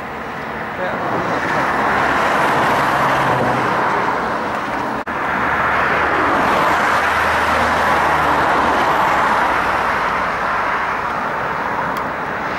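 Steady road traffic rumbles continuously, cars and heavier vehicles passing close by in a dense, loud wash of engine and tire noise with a brief dip midway.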